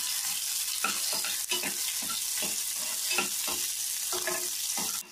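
Onions fry in a pan for boiled black-eyed peas, a close, continuous sizzle broken by regular scraping strokes of a spatula stirring them, with no talk.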